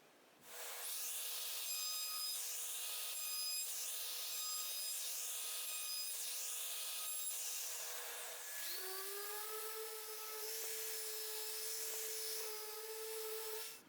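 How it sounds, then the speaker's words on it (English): Close, steady rubbing and abrasive scraping against wood continues for several seconds, with repeated back-and-forth strokes and a higher grinding tone near the end. "round off the edges and give it a nice sand"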